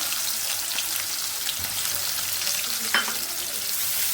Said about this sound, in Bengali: পেঁয়াজ কিছু দিয়ে দিচ্ছি